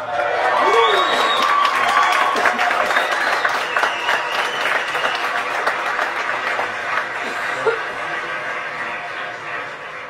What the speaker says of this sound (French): Applaudissements pour Jessica.